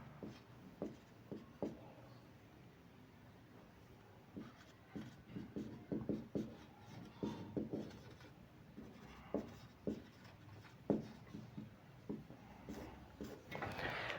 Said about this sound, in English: I have to write down reading here